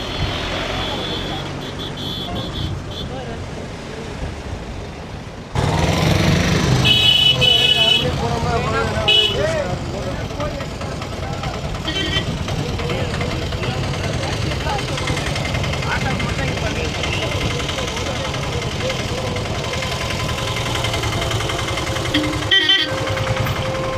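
Heavy, crowded road traffic at Dhanushkodi, with vehicle engines and horn toots rising to a loud, steady roar midway, mixed with constant crowd chatter and talk.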